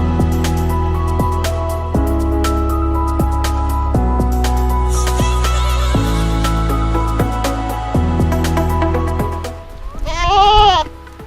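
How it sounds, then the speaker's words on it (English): Several sheep and goats bleat over and over in a noisy pen on a hiking trail in India, calls overlapping with steady low rumble, ending in one loud, wavering bleat up close. "You guys know these goats. It's sheep and goats."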